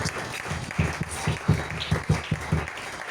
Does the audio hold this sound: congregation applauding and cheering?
yes